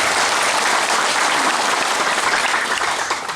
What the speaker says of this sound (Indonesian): Bapak Ibu boleh kita tepuk tangan yang paling meriah.